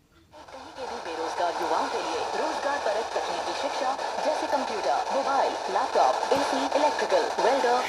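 Radio broadcast on FM 92.7 Big FM received through a modified antenna, heard steadily for the whole stretch with a hissy, slightly noisy tone, voice-like content coming through the speaker.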